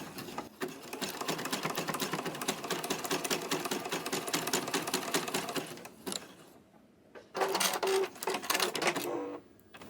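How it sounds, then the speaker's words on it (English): Zigzag stitching across the base of a fabric-wrapped rope bowl, a sewing machine chatters rapidly for about six seconds, pauses, then runs again in two short bursts. "We're going to put an X with our zigzag stitch. So lift up your presser foot and go across."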